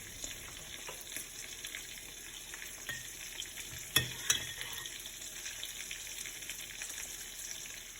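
Coated hake fillets fry in a pan, a faint, steady sizzle with a couple of sharper crackles and pops in the middle, heard alone without talk.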